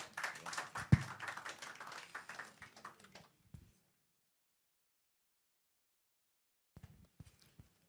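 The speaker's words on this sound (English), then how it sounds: "Round of applause, please." Scattered audience clapping at an economic conference, a few seconds of sparse, uneven handclaps that quickly die away into near silence, then a few faint taps near the end.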